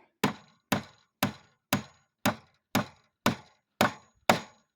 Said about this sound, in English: Hear the sound before the swing of the hammer.